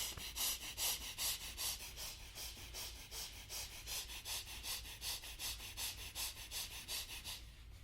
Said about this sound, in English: start breathing gently into the chest from the nostrils